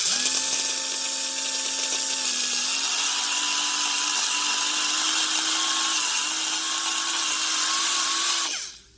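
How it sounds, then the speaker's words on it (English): An angle grinder whines continuously against a turbo shaft wheel, a loud, close, steady high-pitched tone that shifts slightly in pitch before spinning down at the end, with no talk. "we're just going to take an angle grinder and just grind out just a little bit of weight just to make it within spec"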